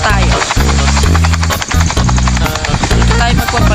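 An in-game helicopter in a roleplay game keeps up a loud, close, steady rotor chop with a pulsing low throb, while a voice talks over it now and then.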